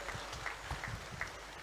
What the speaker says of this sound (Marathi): जोरदार टाळ्या विशालसाठी झाल्या पाहिजे